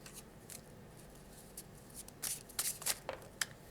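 Tarot cards being shuffled by hand, soft riffling and papery flicks that build into a few sharper bursts near the end, quiet and close with no talking.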